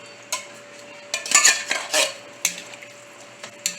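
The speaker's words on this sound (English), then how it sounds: "We stir it up a little bit." A spoon stirs black beans in a pot of Guyanese cook-up rice, making close, clear metallic clinks and scrapes in uneven bursts.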